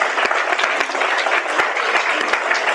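A small audience claps in a brief, dense round of applause, steady and fairly loud from start to finish.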